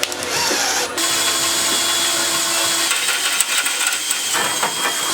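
A power drill with a larger bit bores a hole during turbo kit work on a Honda Civic, giving a steady, loud grinding whine with a brief dip partway through.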